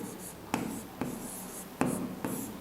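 Pen writing on paper: soft, close scratching strokes with a few sharp taps as the pen touches down, quiet and sparse, with no talking.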